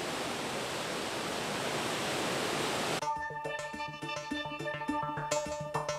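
A continuous roar of Victoria Falls, a dense broadband wash of falling water for about three seconds, then cut abruptly to tonal music.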